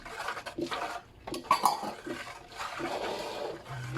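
Homemade laundry mousse being stirred in a bowl after washing soda crystals and baking soda are added to a melted base: light clinks and scrapes of a utensil against the container in uneven bursts, with no voices.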